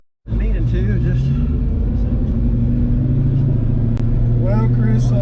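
A 1972 Ford Mustang Mach 1 rumbles with a deep, steady engine note from inside the car during a ride, heard loud and close.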